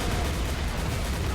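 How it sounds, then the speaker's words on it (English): Heavy cannon fire from a toy-soldier battle in the Army Men Battle Simulator video game: a dense, continuous rumbling barrage of blasts that fills the short moment, loud and close, with no talking. "These cannons are the only thing."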